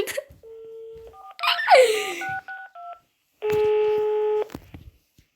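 A phone dials out with a run of short, evenly spaced keypad tones, then a long steady ringback tone, with a brief interjection and laughter between the beeps.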